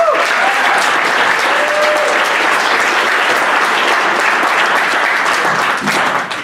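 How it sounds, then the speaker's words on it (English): Crowd giving a round of applause, loud and sustained clapping from many people, close and dense, with faint cheers and voices mixed in. "can we give him a round of applause?"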